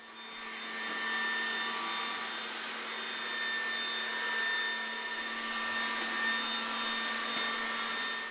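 A robot vacuum cleaner built for pet hair runs steadily nearby, giving a continuous whirring hum with a high tonal whine that holds at an even level throughout.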